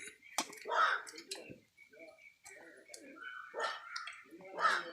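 A household dog barks at someone arriving: a few sharp, fairly close barks spread across the stretch, mixed with people talking nearby.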